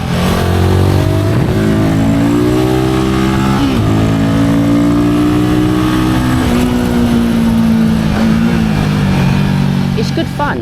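A Royal Enfield Guerrilla 450 single-cylinder motorcycle accelerating up through the gears, its loud engine growl rising in pitch and dropping at each shift, heard up close from the rider's position.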